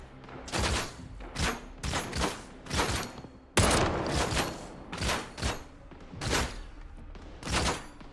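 Enemy shotgun blasts in the video game STALKER 2, a series of sharp, loud booming shots fired in quick irregular bursts about once a second, each with a short rumbling tail.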